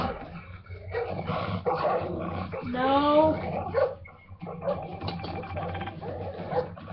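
A dog barking and yelping in the stealth shooter Splinter Cell: Blacklist, a short burst of barks mixed with game noise and explosions, heard under a person speaking.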